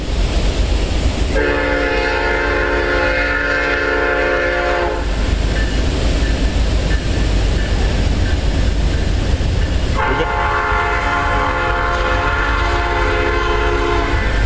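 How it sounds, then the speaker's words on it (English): A loud train horn blasts twice in long sustained chords over the heavy roar and rumble of a passing train. "Comes the train man. It's always here on Saturday. You're going to hear the horn very shortly."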